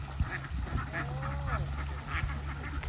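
A flock of young laying ducks quacks repeatedly in the distance, their calls overlapping against a steady outdoor background noise.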